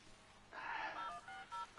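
Phone keypad tones in Batman Arkham Knight: several quick beeps in irregular succession, fairly faint, with no talk over them.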